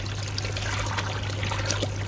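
Water trickles and pours steadily as a koi pond filter drains into a bucket, a continuous close splashing flow over a low hum.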